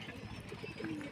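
Pigeons coo in a low, steady rhythm throughout, near and fairly clear, at a spot where a roosting perch is being built for them.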